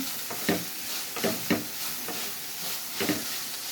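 Ginger garlic paste and broad bean pods fry in a pan for a tomato curry, a steady background sizzle broken by about six rhythmic spatula scrapes, close and moderately loud, with no voices.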